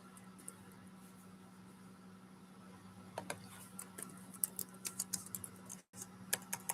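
Fingers tap on a computer keyboard in quick, irregular bursts of soft clicks over a steady low hum, close but quiet, picking up pace toward the end with a brief pause just before.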